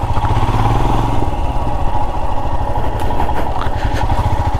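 Royal Enfield Himalayan BS6 motorcycle engine idling close up, a loud, steady thumping single-cylinder beat with light mechanical clatter.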